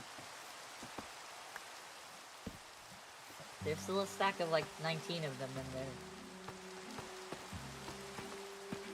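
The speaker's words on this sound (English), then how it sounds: "The rain is very loud." Steady rain falls in the Minecraft video game, a constant hiss of drops on surfaces running throughout, while a person talks over it in the middle and later parts.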